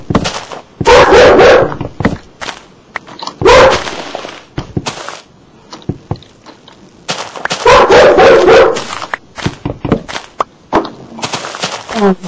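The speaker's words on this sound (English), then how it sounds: "my dog's barking in the back" A dog barks in short loud bursts, grouped in clusters and separated by gaps, with a few sharper yips mixed in. The barking stands alone, with no talk over it.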